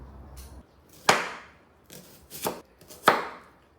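A knife chops through an onion on a cutting board, a few sharp, crisp strokes spaced about a second apart, close and clear with quiet pauses between.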